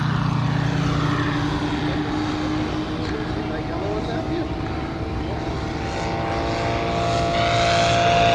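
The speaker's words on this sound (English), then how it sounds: "Up there with his biplane." A giant scale radio-controlled Waco biplane flying overhead at an airshow, its propeller engine a steady loud drone with a slowly shifting pitch as it passes, continuous throughout.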